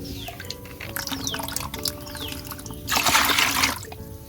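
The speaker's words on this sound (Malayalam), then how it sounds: "ഈ ബക്കറ്റിനകത്തോട്ട് പുളിച്ച കഞ്ഞിവെള്ളം ഒഴിച്ചു കൊടുക്കുകയാണ്" Sour rice water trickles and drips into a bucket in short bursts, then a louder splashing pour rises briefly before settling back to faint dribbles.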